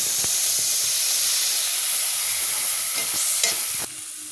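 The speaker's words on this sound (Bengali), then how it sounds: "এবার ফোড়নটা ভাজা হয়ে গেলে এবার ওর মধ্যে আমি বেটে রাখা মশলাটা দিয়ে দেবো।" A ground spice paste fries in oil after a tempering of dried chillies, bay leaf and cumin, producing a loud, close, continuous hissing sizzle with a few faint stirring knocks before it suddenly quiets.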